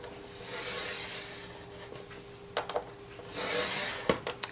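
American Crafts cardstock being scored on a scoring board: quiet, close, soft rasping strokes of a tool dragged along paper, with a few small sharp clicks.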